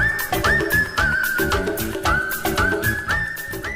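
A sliding melodic line is whistled in a 1990s Bollywood song from the film Saudagar, piercing and repeated in short phrases over rhythmic percussion and instruments.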